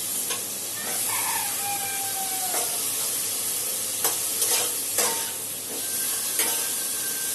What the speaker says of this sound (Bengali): এই যে সর্ষে ফোড়ন দিয়েছি